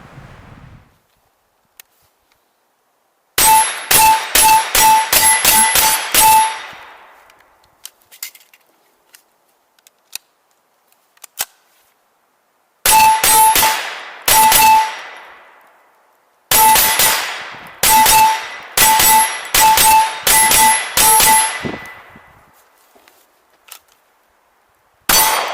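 A Ruger PC Carbine fires at an outdoor range in fast bursts of sharp shots with ringing metallic clangs from the steel targets. Three separate strings ring out loud and close, with quiet gaps between them.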